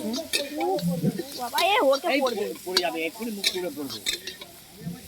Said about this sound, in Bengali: এখানে ডিমের ঝালটা করা হবে বলে মশলা কষা হচ্ছে।